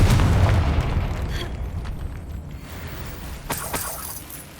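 Confringo blasting spell explosion in Hogwarts Legacy: a loud, heavy boom at the start that decays into a rumbling tail, followed by a couple of sharper crackling bursts near the end.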